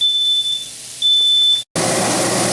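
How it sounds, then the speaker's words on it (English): A home smoke alarm set off while sautéing shallots in a kitchen sounds steady high-pitched beeps, broken by a short pause, before a loud, broad burst of noise takes over. "And there goes the alarm."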